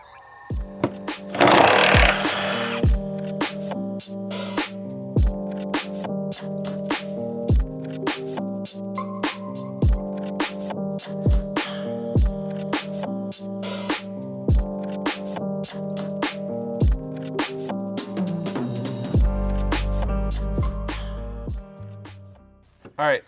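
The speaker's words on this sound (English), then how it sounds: "we're going to go ahead and take off the center support bearing bolts first" A pneumatic impact wrench rattles in repeated short bursts while removing the center support bearing bolts on a Porsche Cayenne driveshaft, loud and close, with a steady motor hum and a voice talking over it.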